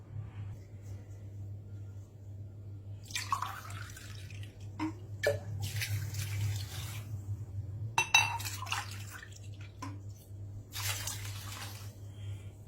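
Two glasses of water are poured over rice and chopped onion in a pot, splashing in several separate bursts over a low steady hum, with a few clinks of the pot.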